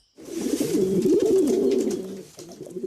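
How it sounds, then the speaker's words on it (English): Pigeons cooing close by, a steady run of soft, low, throaty burbling calls that rise and fall without pause, then a brief dip near the end. "you probably recognize the familiar cooing of pigeons."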